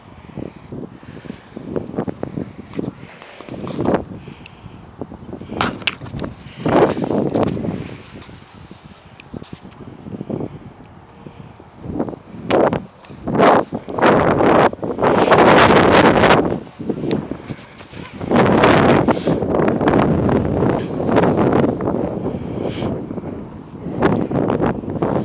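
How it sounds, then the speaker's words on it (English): Strong outdoor wind batters the microphone in loud, irregular gusts and rumbling buffets, swelling and easing across the whole stretch with no voices. "Windy. I don't know if you can see this. It's blowing."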